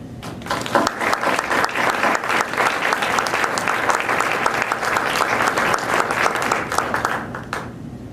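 A lecture audience applauds steadily to welcome a speaker at a university MLK lectureship event, a full and even clapping that holds for several seconds before fading at the end.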